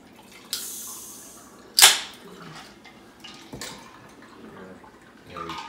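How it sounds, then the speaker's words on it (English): Rum Rambler cocktail poured from a shaker over ice, a loud splashing gush with a sharp clink partway through, then softer trickles and faint clatter. "we're going to pour this all over ice."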